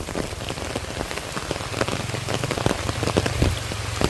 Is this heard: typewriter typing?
no